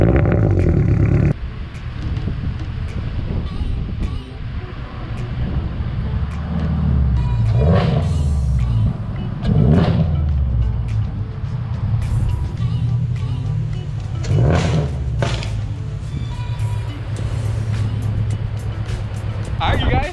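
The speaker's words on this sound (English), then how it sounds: "I'm gonna go ahead and get the car now, pull it out onto the driveway" Toyota GR86 idling and rumbling as it is driven out onto a driveway, a low steady engine hum with intermittent clunks, and a person talking over it.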